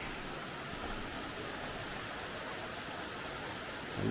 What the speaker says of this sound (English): here we've got the first creek crossing